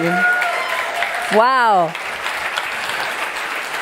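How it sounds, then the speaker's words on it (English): An audience applauds the unveiling of a new Alpine car at a live presentation, steady clapping throughout with a voice briefly exclaiming over it. "Please round of applause for this incredible car."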